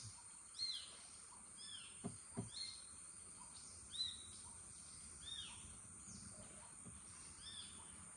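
Baya weaver birds call near a river estuary heard from a boat, scattered high chirps and twitters at moderate distance, with a few soft knocks and thumps beneath and no speech.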